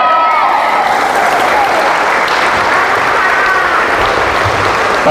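A church congregation claps their hands together in loud, dense, sustained applause from many people, continuous and close for the whole stretch.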